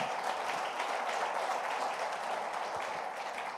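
A church congregation claps for the Lord after the sermon reading, a dense, even wash of applause from a large crowd that carries steadily through the moment without voices over it.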